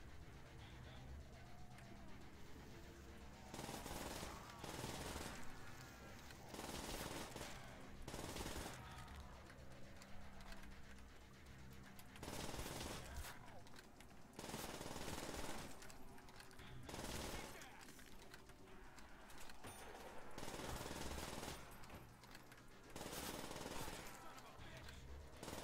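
A PPSh submachine gun fires in Call of Duty: World at War Zombies on the Verrückt map, with long, loud rattling bursts repeating in runs separated by brief pauses, and a voice speaking faintly underneath.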